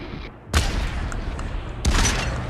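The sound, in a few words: rifle shots in video game Population One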